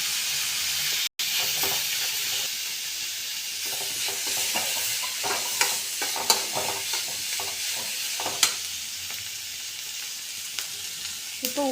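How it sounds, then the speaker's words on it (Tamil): Chopped onion, green chilli and curry leaves sizzle steadily in a hot pan for potato kurma, a continuous frying hiss with scattered clicks and scrapes from stirring, close and alone with no talk. "நம்ம கட் பண்ணி வச்ச ஆனியன், பச்சை மிளகா, கருவேப்பிலை போட்டு வதக்கிக்கலாம்."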